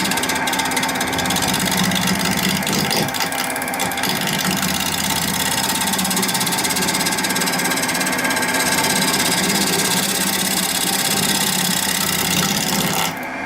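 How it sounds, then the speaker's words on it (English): A wood lathe turning at 1000 RPM while a bowl gouge makes a push cut across the wood gives a steady, continuous rasping scrape over the lathe's motor hum, close and unbroken for the whole stretch. "I'm going to do a little bit of a push cut with this bowl gouge that I know works better"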